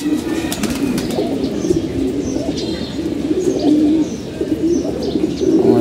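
Pigeons coo steadily in a loft during hot weather, a continuous layered murmur of overlapping low calls with a few higher chirps above, close and moderately loud throughout.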